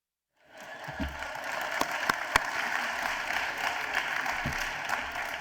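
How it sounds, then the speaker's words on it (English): An audience at a high school assembly breaks into applause after a brief silence. The clapping swells quickly and holds as a full, even roar with a few sharper claps standing out. "Just one more round of applause for our wonderful, beautiful speakers today."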